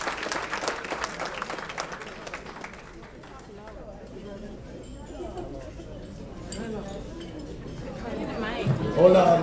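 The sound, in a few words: audience applause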